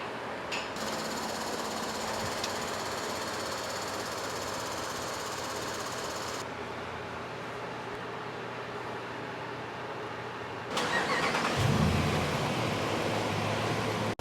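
A Dodge 1500 pickup engine runs on a chassis dyno, a steady loud mechanical roar with rapid knocking pulses, rising louder near the end, no voices.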